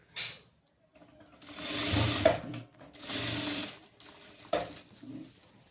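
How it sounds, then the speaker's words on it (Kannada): Sewing machine stitching along the folded edge of a sleeve, running in several loud close bursts of rapid whirring separated by short pauses. "ಈ ಥರ ಫೋಲ್ಡಿಂಗ್ ಮಾಡಿಕೊಂಡು ಸ್ಟಿಚಿಂಗ್ ಅನ್ನೋದನ್ನ ಹಾಕೊಂಡು ಬರಬೇಕು"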